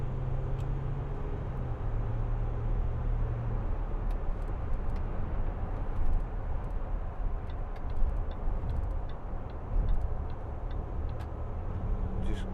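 A 2012 Land Rover Discovery 4 with the 3.0 SD V6 diesel accelerates on the road, a steady low engine and road drone heard from inside the cabin, with faint ticking over it and no speech.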